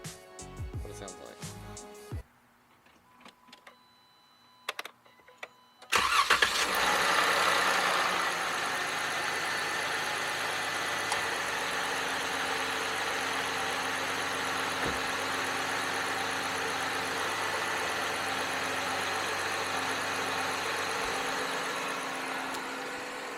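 A Jeep Wrangler fitted with a K&N air filter starts after a few seconds of quiet handling noises. Its engine then settles into a steady, close idle hum that continues to the end.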